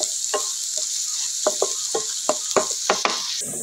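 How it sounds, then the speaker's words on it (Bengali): Onion and garlic sizzle in an iron wok as a spoon stirs them, a constant hiss of frying punctuated by a series of sharp scraping and tapping strokes against the metal, close and alone without talk. "এদিকে কতক্ষণ পর আবার একটু নেড়ে চেড়ে দিতেছি পেঁয়াজ রসুনটা"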